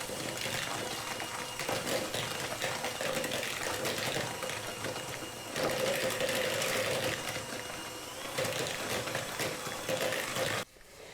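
A handheld electric mixer creams an egg into gluten-free almond flour cookie dough, giving a steady close whirring buzz with a faint wet churning that runs almost continuously and stops abruptly near the end.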